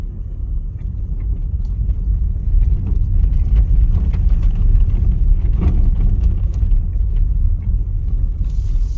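Steady low engine rumble and road noise from inside a moving BMW M sports car on a rough road with potholes, with occasional knocks and thumps as it rolls over uneven pavement.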